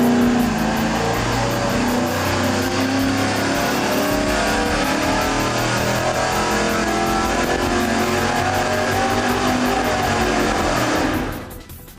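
An engine on a dynamometer roars loud and sustained through a full pull, holding a dense, steady howl for about eleven seconds before dropping off abruptly at the end.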